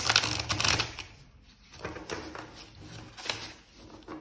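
Oracle cards are shuffled and drawn by hand, producing close bursts of rustling, flicking card sounds that come and go in quick waves.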